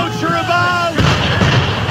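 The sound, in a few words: gunfire in Assassin's Creed III video game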